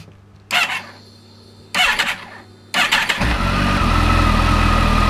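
A Kawasaki ZX14 (ZZR1400) motorcycle engine is cranked twice in short bursts, then catches on the third try and settles into a loud, steady idle close by, right after work on a mechanical cam chain tensioner.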